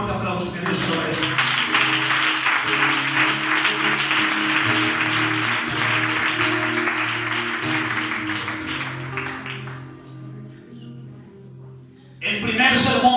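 A church congregation claps loudly and steadily during a sermon, a dense crowd clatter that runs for about nine seconds over a low musical drone, then fades to near quiet before a burst of noise returns at the end.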